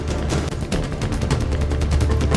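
Rapid gunfire, a dense burst of repeated shots at steady loudness throughout, tied to a reported incident in Raipur district, Chhattisgarh, where a CRPF jawan fired on fellow troops.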